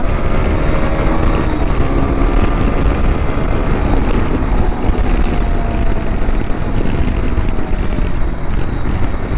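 Hero XPulse 210 motorcycle run at full throttle through gear shifts, a steady loud engine drone with rising and falling tones as it climbs through the gears, heavy wind rush throughout.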